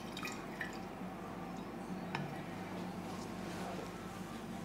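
Juice pours and drips quietly and steadily into a container in a home kitchen, with no one talking.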